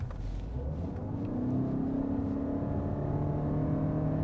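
A Ford Kuga PHEV plug-in hybrid with a continuously variable transmission accelerates, heard from inside as a steady engine drone with a hum slowly rising in pitch, fairly loud and with no talking.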